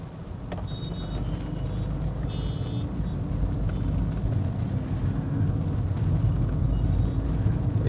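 Heavy traffic on a busy main road in Jaipur, India, a steady dense roar of cars and larger vehicles with engine rumble throughout and a few brief higher whines, continuous and close.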